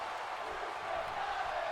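A sold-out wrestling arena crowd in a video game, gathered for an Undertaker versus Sting match, keeps up a steady, distant roar of cheering throughout, fairly faint and unbroken.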